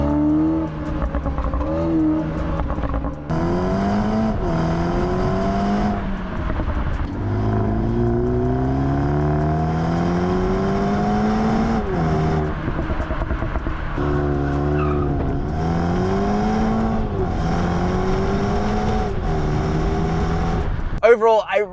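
Engine and exhaust of a BMW 3 Series rev and accelerate repeatedly, rising harmonic sweeps climbing through gears with brief pauses between pulls, loud and close throughout.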